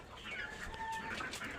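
A brooding hen that has settled on her first clutch of eggs clucks in a few soft, low calls, fairly close, against a steady background hum with no talking.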